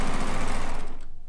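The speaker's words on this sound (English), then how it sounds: "if you've never thought of using a serger to piece with" A serger sewing machine stitches quilt fabric pieces together with a fast, steady mechanical whir that stays close and even, then trails off at the end.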